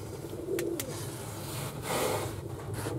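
Baby doves coo softly in a close indoor enclosure, with low murmuring calls over a steady background hum and a couple of brief sharp clicks.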